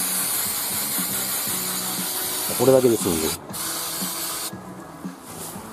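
Oil lubricant from an aerosol can hisses onto the exposed rotating blade of a rice harvester during maintenance, a steady spray with short breaks, someone speaking over it.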